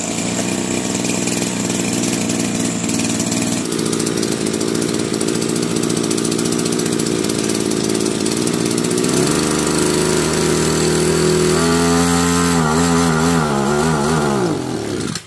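A petrol-engine power sprayer runs loud and steady, then revs up at full throttle, its pitch sweeping and wavering as the engine, needing carburetor tuning, struggles and cuts out at the end.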